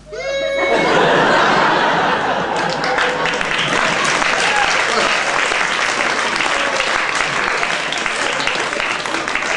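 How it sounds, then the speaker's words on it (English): An audience at a comedy gig bursts into loud, sustained applause mixed with laughter and chuckles, the dense clapping filling the whole stretch after a brief quiet start. "I don't know who you're applauding"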